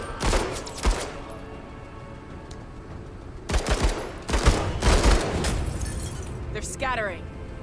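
Gunfire in the video game Menace, several loud bursts of shots and blasts separated by quieter gaps, with people talking over the action.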